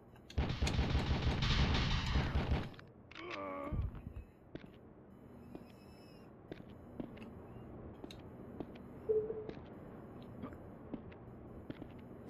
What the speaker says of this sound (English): Let's go and shoot some people.